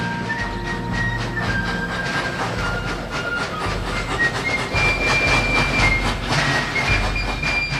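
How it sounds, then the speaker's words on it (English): A train runs along the rails during the American Civil War era in July 1861, carrying troops. Steady low rumble and hiss with rhythmic clatter, close and continuous throughout, with faint whistle-like tones above. "For the first time in history, trains bring men to the battlefield."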